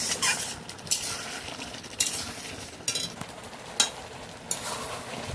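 Mango chutney being stirred in a pan as it thickens, a soft continuous bubbling hiss punctuated by several scraping strokes of a spoon against the pan, close by with no talking.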